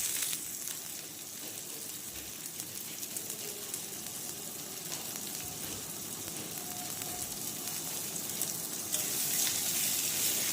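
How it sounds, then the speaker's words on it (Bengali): Chopped onions frying in hot mustard oil, giving a sustained close sizzle that grows slightly louder and brighter toward the end, with light stirring scrapes and no talking. "পেঁয়াজগুলোকে ভালো করে লাল লাল করে ভেজে নেব।"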